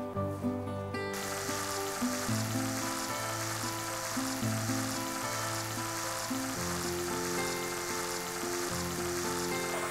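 Buttermilk-marinated chicken pieces frying in a pan over a medium flame, a steady close hiss and sizzle under a constant background hum.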